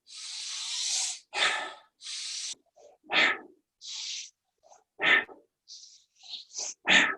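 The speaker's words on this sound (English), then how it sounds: "Breathe in and release." Deep, audible breaths during a guided breathwork session: long forceful inhales and exhales in a steady rhythm, close and unaccompanied, with quiet gaps between.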